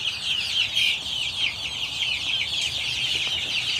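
Young chicks in a brooder house on a pasture-raised poultry farm, their many high, overlapping peeps forming a dense, steady chorus at moderate distance, with no talking.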